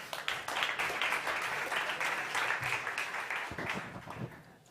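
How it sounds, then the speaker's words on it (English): A conference audience at a startup competition breaks into sustained applause, dense clapping filling the hall before it fades toward the end. "Big applause, TestWe!"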